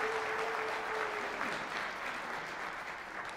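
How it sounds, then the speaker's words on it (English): Audience applause fills a school winter concert for an elementary band and chorus and high school band, a dense, steady wash of clapping with a faint tone early on. "One more round of applause for these outstanding musicians"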